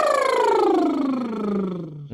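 A voice imitates a car or lawnmower starting, with a few quick revving pitch swoops and then a long falling slide downward, fairly loud and close, heard alone.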